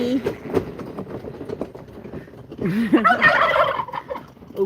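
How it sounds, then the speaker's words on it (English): Farm turkeys gobbling in a loud, warbling burst near the middle, with other fowl calls and a person talking around them in a barnyard at feeding time. "Okay, turkeys."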